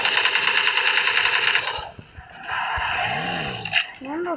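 Rapid automatic gunfire from the PUBG battle royale game rattles in a loud sustained burst, then breaks off as players talk, with a few scattered shots and game effects following.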